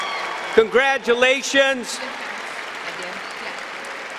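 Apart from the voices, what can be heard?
commencement audience applauding master's graduates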